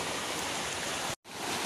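A river at a bridgeless crossing near Curug Luhur waterfall in Ciambar, Sukabumi, rushes as a loud, steady, close wash of flowing water, broken by a brief dropout near the end.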